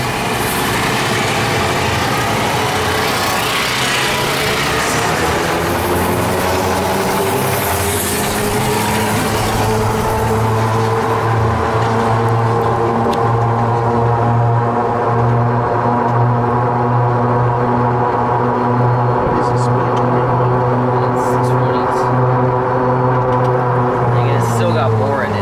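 A hunting cart converted to a lithium battery drives at top speed with a continuous, loud whining hum that rises in pitch as it accelerates and then holds steady for about twenty seconds.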